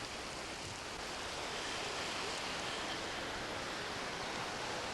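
A waterfall on the Serra do Aracá roars with a dense, steady hiss of falling water, constant and unbroken.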